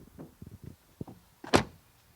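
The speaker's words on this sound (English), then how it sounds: "and the door closing sound." A luxury SUV door swings shut with one solid, muffled thump, close by, after a few soft latch and handle clicks.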